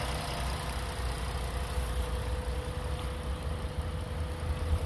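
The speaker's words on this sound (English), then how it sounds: "It's been idling for over half an hour with the AC running ice cold." A 2012 Ford Taurus idles with the air conditioning running, giving a steady, even engine hum with a low rumble that stays constant throughout and has no voices over it.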